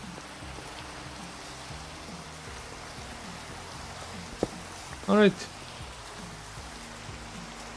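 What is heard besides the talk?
rain falling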